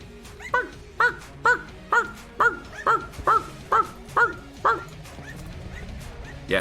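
Dog companion in the video game Enter the Gungeon barking in a steady series of about a dozen sharp, evenly spaced yips, clear and close, then fading out.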